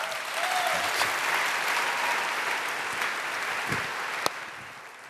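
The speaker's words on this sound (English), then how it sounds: "Round of applause for God." Audience applause at a church gathering, a sustained wash of clapping that holds steady across the clip, dense and moderately loud with no talk.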